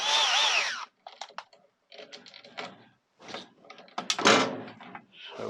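A power drill whirring in short bursts while bolting an earthing strap back onto a mobility scooter, with clicks and clatter of tools between the bursts, close up.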